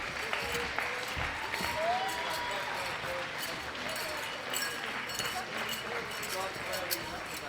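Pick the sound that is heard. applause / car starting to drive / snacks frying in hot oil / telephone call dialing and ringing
applause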